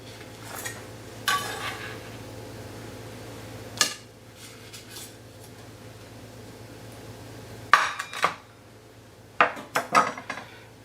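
A French knife cuts through a homemade flatbread pizza, striking the board with a few sharp, scattered clacks and short crunchy scrapes, separated by quiet stretches.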